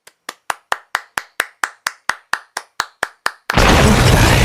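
In the Cyborg 009 anime, hands slap against cheeks in fifteen sharp, evenly spaced claps, close and loud, before a sudden burst of dense, roaring noise takes over.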